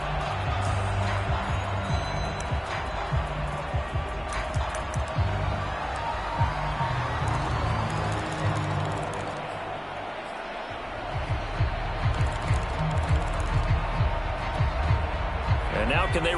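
Stadium crowd noise from a PS4 American football video game, a dense continuous roar that swells louder near the end, running under steady commentator speech throughout.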